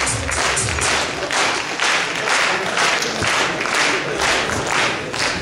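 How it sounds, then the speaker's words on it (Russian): Loud, dense audience applause for competing KVN comedy teams at a 2014 final game, steady sustained clapping from a large crowd with no voices, swelling slightly in waves throughout. "И ваши бурные аплодисменты для всех команд участниц сегодняшней финальной игры."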